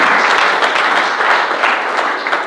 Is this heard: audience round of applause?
yes